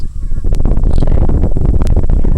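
Chickens on a Kentucky homestead, adult laying hens and chicks, cluck and squawk close by over a dense, noisy background, with a few sharper calls cutting through.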